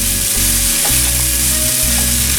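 Poha upma being stirred in a hot pan, a steady close sizzle with soft scraping strokes throughout, no voices.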